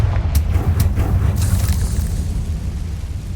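A Confringo fire spell blasts in a Harry Potter video game, a loud rumbling boom with several sharp crackling bursts early on, then a sustained low roar that slowly fades.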